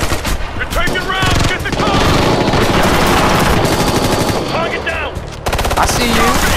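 Gunfire in the video game Ghost Recon Future Soldier: sustained, loud automatic bursts of rapid shots fill most of the clip, with brief pauses between volleys and soldiers' voices calling out beneath them.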